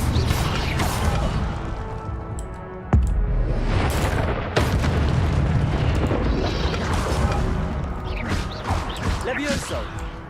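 An Incendio fire spell is cast in the video game Hogwarts Legacy. Loud whooshing, rumbling magic effects rise amid dense game sound, with sharp booming impacts punctuating the continuous roar.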